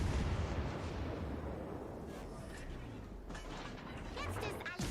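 Secondary guns of a battleship in World of Warships: Legends firing at a ship, a dense rumble of booming shots and bursts over a continuous battle din, with a few sharper cracks toward the end.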